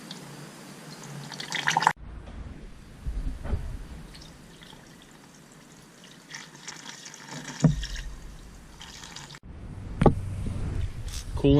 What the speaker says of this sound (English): To fill the cooling system, I'll be using a 50-50 mix